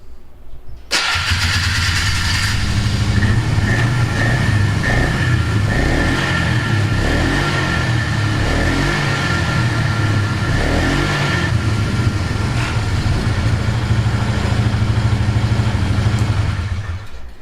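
A Polaris Magnum 325 ATV, recently fixed for lean running and fuel starvation, fires up and idles loud and close, its engine holding a steady throbbing rumble with slight revving swells, with no voices over it.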